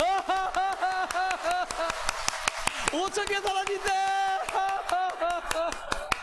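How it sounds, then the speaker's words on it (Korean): Church congregation at a weekend revival meeting clapping fast and continuously, the dense claps running under a loud, excited voice shouting over them. "자, 10초만 박수 치겠습니다."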